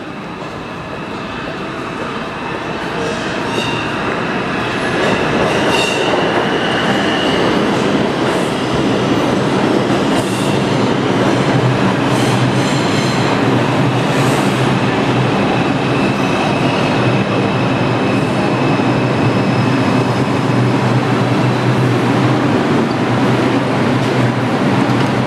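A Manhattan-bound New York R142 subway train on the 4 line, heard from on board as a steady, loud roar of rolling wheels and rumble with faint squeals and clatter throughout the ride.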